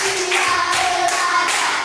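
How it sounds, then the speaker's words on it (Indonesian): Children in an elementary school class clap in a counted group routine, a series of evenly spaced, fairly loud hand claps with faint voices beneath. "Tepuk 1, tepuk 2, tepuk 3, tepuk 4, tepuk 5"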